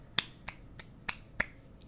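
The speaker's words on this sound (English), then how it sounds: "I clap my hands" About five sharp, close finger-snap-like hand claps at an uneven, quick pace from a single person, quiet overall and with no talk.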